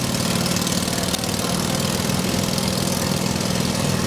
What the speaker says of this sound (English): the roar of the famous 1920s Indian Scout